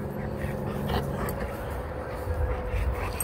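A dog whimpers and gives small yips outdoors on a cool night, faint and intermittent over a steady low background hum.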